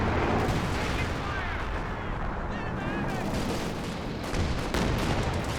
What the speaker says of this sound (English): We've got some sort of artillery barrage and major artillery